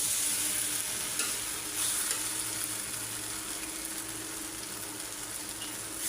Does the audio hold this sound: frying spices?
yes